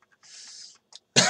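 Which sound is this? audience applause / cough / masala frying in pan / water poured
cough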